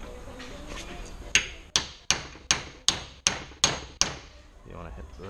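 A non-hardened bolt used as a punch is struck by a hammer on the axle boot tabs of a 2011 B8 Audi A4, giving eight sharp, evenly spaced metallic whacks, close and loud.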